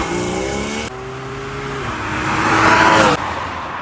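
A Porsche 981 Cayman with PDK gearbox revving hard up to around 7,000 RPM, a rising engine howl broken by quick gearshifts, loud and close with road roar underneath.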